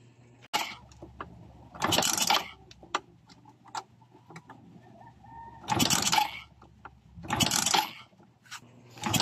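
A Suzuki Smash 115 motorcycle gets several repeated kickstart strokes, each a ratcheting mechanical scrape, with faint clicks between them and no engine catching.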